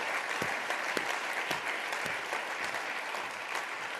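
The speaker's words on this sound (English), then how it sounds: "Can I just get a round of applause for the consular folks?" Sustained audience applause for a consular team at a gathering of heads of mission, a steady wash of many hands clapping with a few sharper nearby claps standing out.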